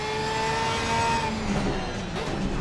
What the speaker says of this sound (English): It's not just that engine scream, it's also the knocks and pings like that.